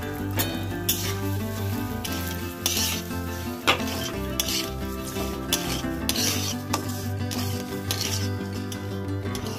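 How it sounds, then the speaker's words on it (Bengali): Broken wheat (dalia) fries in a pan with spices and chana dal, scraped and stirred with a utensil, making a close crackling sizzle with repeated metallic scrapes and clinks over faint background music. "এবার ডালিয়াটা ঢেলে দিচ্ছি।"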